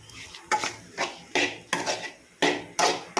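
Potatoes are mixed with garam masala, chili and turmeric powder in a pan for a dry potato masala. About eight sharp metal spoon scrapes and clanks against the pan come at a steady stirring rhythm, close and clear.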